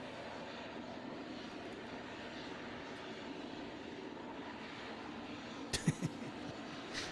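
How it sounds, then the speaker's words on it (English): A fixed-wing airplane's engine drones faintly and steadily in the distance, with a few brief sharp clicks near the end. "we are awaiting official confirmation that this is Brian Kohberger's plane"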